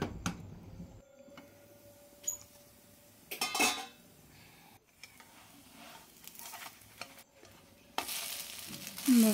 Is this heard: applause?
no